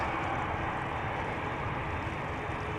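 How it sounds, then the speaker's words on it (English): An EasyJet Airbus A319 taxis toward the runway threshold at Amsterdam Schiphol, its engines giving a steady, even roar that holds at a moderate distance throughout. "EasyJet A319 moving to the threshold"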